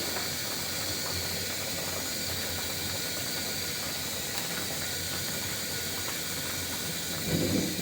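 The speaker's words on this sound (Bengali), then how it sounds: "ঝোলটা কিন্তু সুন্দরভাবে ফুটে গেছে।" Fish curry broth with bitter gourd boils in a covered pot, giving a steady, even steam hiss with a faint bubbling undertone throughout and no voices.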